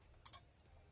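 Two quick computer mouse clicks land close together and close up in an otherwise quiet room.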